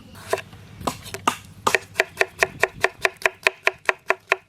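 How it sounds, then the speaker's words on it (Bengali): A knife chops tomatoes on a board. A few scattered cuts give way to a fast, steady run of sharp, evenly spaced knocks, close and alone. "তা টমেটো কেটে নেব।"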